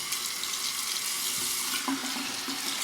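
Tap water runs steadily for a face rinse during a razor shave, a continuous broadband hiss with a few small splashes from hands in the stream, close and alone.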